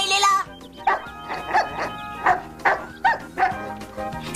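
A cartoon puppy barks in a French-dubbed Alice in Wonderland episode, giving about eight short, evenly spaced yaps close up over a soft musical background.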